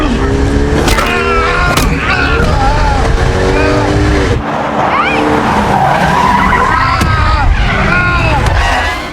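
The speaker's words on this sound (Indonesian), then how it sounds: "Robert langsung membelokkan mobilnya sehingga membuat si Jamet terjatuh" A car swerves hard in a tense action film scene, with loud, sustained tire squeals and skidding close by, an abrupt break midway, then more screeching, mixed with chaotic movie sound effects.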